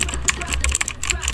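Someone types on a computer keyboard while entering ChatGPT prompts, producing a quick run of sharp, close clicks and key taps in an irregular rhythm.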